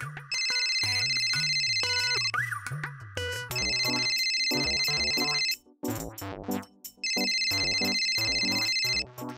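A loud electronic ringtone plays in repeated melodic bursts with short pauses between them, close and clear.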